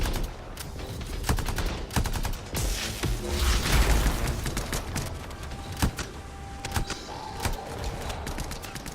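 Turret gunfire from the video game Anthem rattles in rapid repeated shots over a dense, steady background of game effects.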